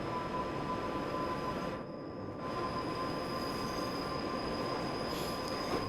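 Steady high-pitched wheel squeal from a BR Class 87 electric locomotive on a London–Crewe railtour in Train Sim World 6, sustained tonal whine over a continuous rumbling rail roar, briefly dipping near the middle.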